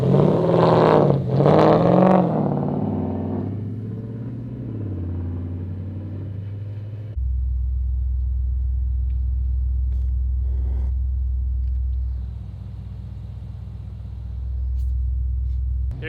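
A lifted Porsche Cayenne doing donuts, its engine revving hard at first, then settling into a loud, steady low drone that swells and dips as the car circles nearby.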